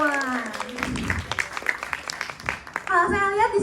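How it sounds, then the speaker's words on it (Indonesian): An audience at an entrepreneurship seminar claps for a couple of seconds, a dense patter of hands rising between stretches of a presenter's voice, which speaks before and after the applause. "boleh dong teman-teman kasih tepuk tangan yang meriah untuk kita semua"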